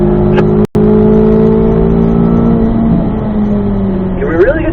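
A race car accelerates through the gears on a track, engine note climbing steadily and loudly up to fourth gear with a steady drone, a brief dropout near the start and a shift in pitch toward the end.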